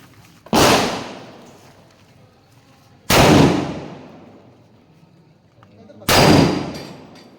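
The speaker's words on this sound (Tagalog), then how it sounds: "Itetest muna niya yung baril" Three sharp, loud gunshots spaced about three seconds apart, each a sudden blast followed by a decaying echo.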